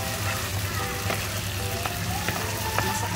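Shrimp paste with oil, sugar and salt fries for an eggplant sambal, a soft steady sizzle with a few light stirring taps, nearby and alone.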